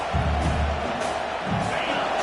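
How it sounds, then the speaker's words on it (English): A home crowd roars and cheers at a football game, a dense steady wall of stadium noise with swelling shouts. "this home crowd is fired up and ready to make a difference today"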